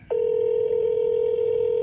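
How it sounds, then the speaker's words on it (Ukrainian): Phone ringback heard while calling a seller about a 2020 Mercedes-Benz CLA 250 imported from the USA: after a brief quiet lead-in, a single steady electronic tone holds continuously at even loudness with no talk over it. "Ви телефонуєте до продавця на авторія."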